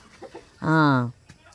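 A farm chicken gives one loud, drawn-out squawking call at close range, with faint movement sounds and soft noises around it.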